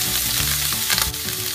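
Turkey frying in butter in a pan, a loud close sizzle and crackle with a brief stir partway through.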